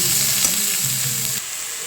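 Sesame seeds and lotus stems sizzle in hot oil in a pan while being stirred for a Bengali chorchori; the frying hiss is close and steady, with soft scraping that stops partway and leaves a quieter sizzle.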